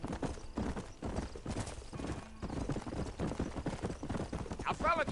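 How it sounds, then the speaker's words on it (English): Rapid clip-clop of horse hooves at a gallop in Red Dead Redemption, steady and fairly loud, with a brief whinny near the end and voices murmuring underneath. "Horse riding's pretty good in this one."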